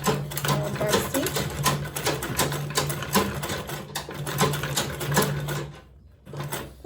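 A sewing machine runs in steady bursts as it stitches a fabric makeup bag with zipper and lining, the motor whirring continuously for several seconds before a short pause and a final restart.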